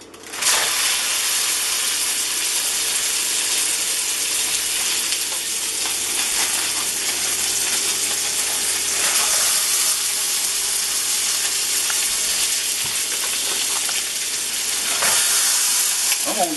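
Mushrooms frying in hot oil in a pan, cooked for chili burgers, give a loud, steady sizzle and crackle that runs unbroken through the whole stretch, with a few sharper pops near the end.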